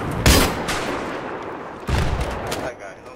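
Battlefield 3 conquest-mode gunfire: a loud close shot, then a second burst of shots about a second and a half later, over constant battlefield rumble.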